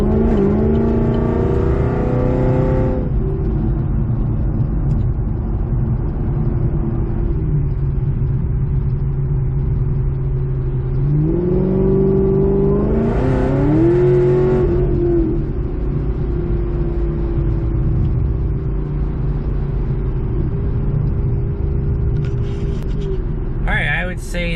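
A 2014 Chevy SS engine rumbles steadily from inside the car while it creeps through traffic, with a couple of rises in pitch as it accelerates, loud and continuous.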